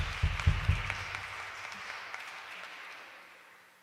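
Audience applause at a live concert, a burst of clapping with a few strong low thumps at the start that thins and fades away over several seconds.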